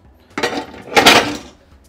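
Pasta being stirred together with canned stewed meat in a pot, giving two close bursts of scraping and clinking from a utensil against the pot, each lasting about half a second, with no talk.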